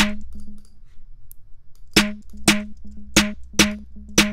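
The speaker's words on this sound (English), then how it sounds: "Let's get a very familiar sounding snare, like maybe this one or the Chicago snare." A punchy Chicago-style snare drum sample, pitched up, repeats several times, crisp and close, first a soft tap, then five sharp strikes in an uneven rhythm, for a trap beat.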